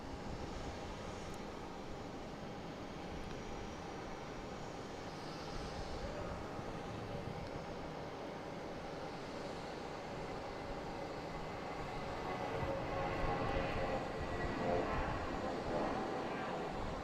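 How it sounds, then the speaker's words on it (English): JetBlue Airbus A320 bound for Atlanta at Boston Logan airport, its engines a steady broadband roar held at moderate distance throughout, swelling slightly near the end. "we got JetBlue here heading to Atlanta, an A320"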